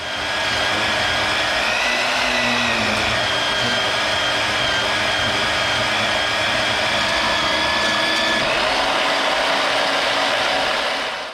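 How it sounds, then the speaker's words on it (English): Steel crossmember legs are cut at a 45-degree angle during an FJ Cruiser solid axle swap, a loud, steady, high-pitched whine of a cutting tool grinding through metal, running continuously and close up. "So what I'm doing here is cutting the legs that are going to come off of the frame right here, down to the new cross member."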